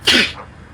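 A single sharp, close sneeze, brief and bright, followed by quiet room tone.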